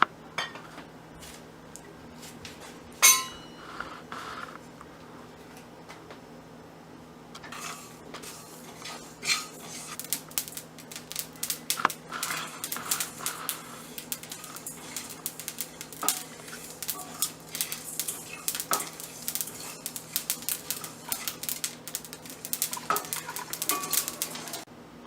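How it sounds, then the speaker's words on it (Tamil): Whole mustard seeds, cumin and fenugreek dry roast in a pan, heard as soft scattered rattling, scraping and light metallic clinks of a spoon against the pan, growing busier and denser over time, close and fairly quiet. "இது கொதிச்சு சுண்டுற டைமில் நம்ம கடுகு, சீரகம், வெந்தயத்தை ட்ரை ரோஸ்ட் பண்ணி எடுத்துக்கலாம்."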